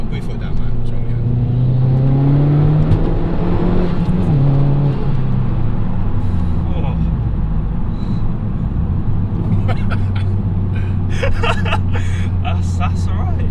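A Mazda MPS accelerates hard from inside the cabin, its engine note climbing in rising pitch sweeps through the gears with a steady loud drone, while people talk over it.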